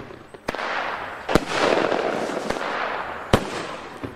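Fireworks going off in the video game Fireworks Mania, with several sharp, loud bangs at irregular intervals over a steady crackling, hissing shower of sparks.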